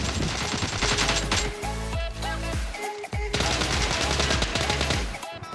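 Rapid bursts of gunfire from a secondary weapon in PUBG Mobile, a solo-versus-squad match, loud and close, with a short lull midway before the shooting resumes, game music and effects layered underneath.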